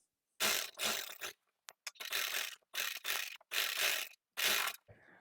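Sewing machine stitching a seam along the neckline of a lined suit, running in four or five bursts of about a second each, separated by short pauses. The bursts are close and fairly loud, with no talk.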